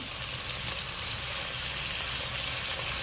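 Chopped vegetables for Rayalaseema-style sambar frying in a pot of hot oil, a dense, even sizzle that stays loud and close throughout, with nobody talking.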